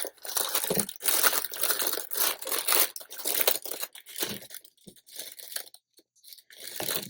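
Paper being unwrapped, crinkled and torn, loud close crackling and crunching in repeated bursts with short pauses, no talk.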